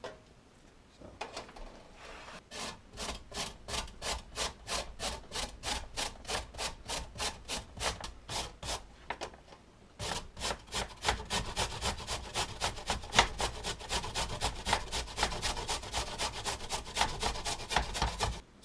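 Carrots being grated by hand in a home kitchen, a steady run of quick, even rasping strokes, close and fairly quiet, pausing briefly midway before resuming faster.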